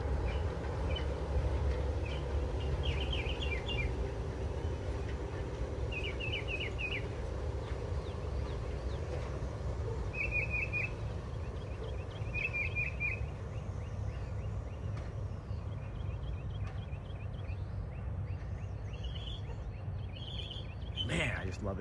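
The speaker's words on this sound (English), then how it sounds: "Got the birds chirping, the monorail grinding on the gears over there." Small birds chirp in repeated short bursts at Magic Kingdom, while a low steady rumble from the nearby monorail and park ambience runs underneath throughout.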